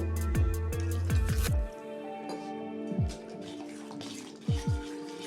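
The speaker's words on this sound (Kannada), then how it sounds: "ಇದನ್ನೆಲ್ಲ ಹಾಕ್ಕೊಂಡು ದೋಸೆ ಹಿಟ್ಟಿನ ಹದಕ್ಕೆ ಕಲಿಸ್ಕೊಂಡು ಬರೋಣ." Cooked vegetable water poured into dosa batter and mixed by hand, giving wet sloshing and squelching bursts with splashy pours, close and moderately quiet, no talking.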